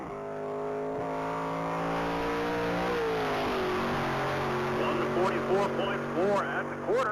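A 2013 Chevy Camaro ZL1 at a Texas Mile top speed event, its engine revving up through gears in a loud sustained run, with an announcer talking over it throughout.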